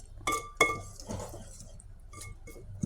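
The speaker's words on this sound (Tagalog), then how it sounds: "Haluin lang ng haluin hanggang sa ma-dissolve lahat yung mga ingredients." Flour batter for puto is stirred in a bowl, with a few bright clinks of a utensil against the bowl's rim followed by softer scraping and swishing sounds.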